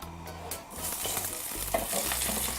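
Chopped vegetables crackle in hot oil in a pan, a close, broad sizzle that swells and dips as they are stirred, with a low hum in the background.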